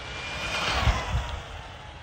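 HBX 2997A RC car with an Ovonic 120A ESC on a 3s setup accelerating hard, a loud rising electric whine that swells to a peak and tapers off as the car passes.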